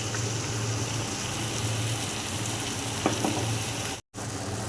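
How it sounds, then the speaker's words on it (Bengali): Chilli cauliflower frying in a pan with tomato sauce and other sauces stirred in, giving a steady close sizzle and crackle throughout, a faint low hum beneath, and a brief drop-out near the end. "এরপর একটু ভালো করে কষিয়ে নেব"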